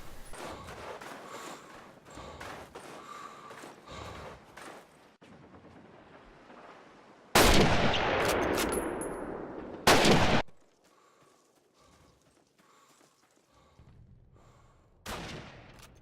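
Sniper rifle fire in Call of Duty: United Offensive, where a loud, sharp blast crashes in and rings out for a few seconds, then a second sharp crack follows, each ending abruptly against quieter game ambience.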